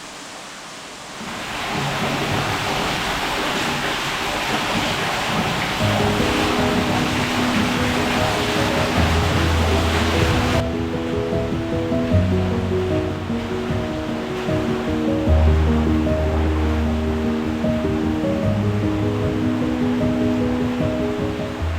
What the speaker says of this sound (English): the stream races on down through its water-worn canyon